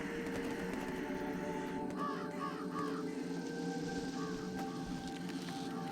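Crows cawing in the video game Jenny LeClue, a few short harsh caws in a quick cluster and a couple more later, set over a steady dense background of game music and ambience.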